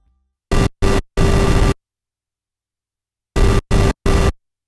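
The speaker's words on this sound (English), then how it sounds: "Let's take our pink noise and route it to external signal in." Bursts of loud pink noise from a Korg MS-20 synthesizer, three gated blasts, a pause of silence, then three more, each cutting on and off abruptly.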